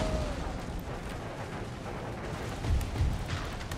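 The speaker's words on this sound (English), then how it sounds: "Here comes the artillery" Steady rumbling cannon fire from an Empire: Total War battle rolls on continuously, with a couple of heavier booms near the end.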